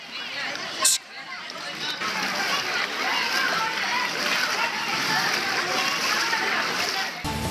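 Rain floodwater in Haveri splashes and sloshes as people move through it, a continuous close watery churning after a sharp splash near the start, with voices faintly mixed in.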